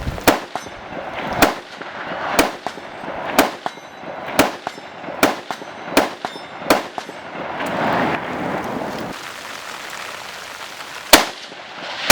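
Rifle fitted with a STRETCH-16 precision barrel firing repeatedly, about a dozen sharp, loud cracks at a quick, fairly even pace with brief gaps between them.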